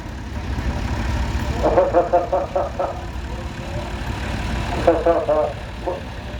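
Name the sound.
Case 446 garden tractor engine running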